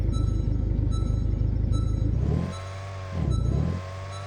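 A car engine in the SCP Secret Files video game, droning with a rhythmic pulsing idle, then revving up loudly twice in quick surges that drop back between them.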